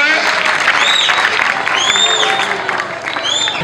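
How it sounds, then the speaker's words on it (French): A large crowd in a stadium claps steadily and loudly, with shrill whistles and cheers rising above the sustained applause throughout. "Des applaudissements pour notre grand maître."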